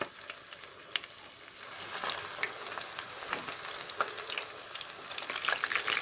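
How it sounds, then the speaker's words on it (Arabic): Chicken pieces for a KFC-style dish frying in plenty of hot oil, a steady, moderately quiet sizzle with crisp popping crackles that grow busier toward the end. "فوالا نحط كاع البولي تاعي نقليه"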